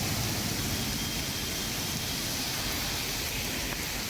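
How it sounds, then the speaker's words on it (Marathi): Steady, dense monsoon rain pours down without a break in Konkan, India, a loud continuous wash of noise filling the whole clip. "धुवाधार पाऊस इथे कोसळतोय"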